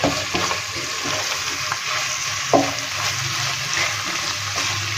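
Keema matar with ground garam masala being stirred in a hot pan: a steady oily sizzle runs throughout, with a few spoon-scraping accents near and moderately loud, and no voices.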